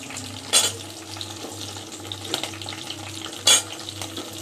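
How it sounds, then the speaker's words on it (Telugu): Lentils and green chillies fry in hot oil for a Telugu cucumber chutney, a soft continuous sizzle close by, broken by two sharp clinks of a utensil against the pan. "నూనె వేడెక్కిన తర్వాత ఇదిగోండి, ఇలా నూనె వేసాక కొంచెం గుళ్ళు వేసుకొని అవి కొంచెం వేగాక పచ్చిమిర్చి కూడా వేసుకోవాలండి"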